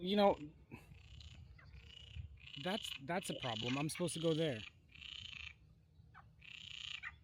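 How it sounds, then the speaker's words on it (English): Frog croaking repeatedly in the background somewhere along the Portuguese Camino between Coimbra and Porto, moderately loud and steady, with someone talking over part of it. "Frog's telling me to go away."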